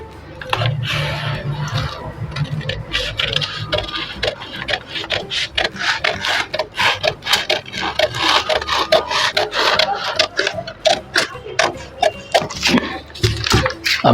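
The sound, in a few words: scissors cutting blouse fabric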